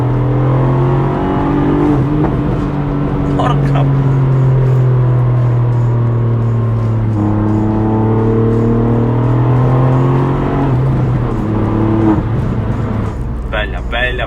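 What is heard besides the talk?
three-cylinder turbo car engine revving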